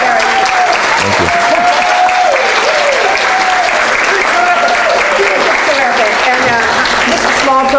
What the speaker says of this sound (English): Let's have a round of applause for Eric.